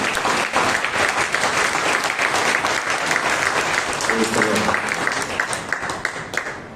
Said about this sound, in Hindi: प्रभुला जोरदार तालियां बजाओ